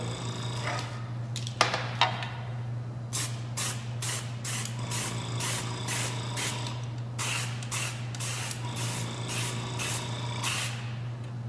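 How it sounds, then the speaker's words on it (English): Repeated short bursts of an airbrush spraying colored cocoa butter, hissing over a steady low hum, roughly a second apart, close by. "I'm spraying away from my mold"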